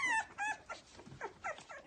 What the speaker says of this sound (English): 8 pit bull puppies were huddled together inside the box.